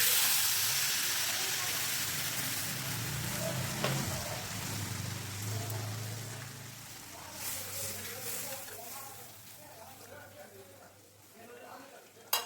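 Water poured into a hot pan of kajali fish curry sets off a loud hiss that fades into a softer sizzle and bubbling, with a voice speaking over it.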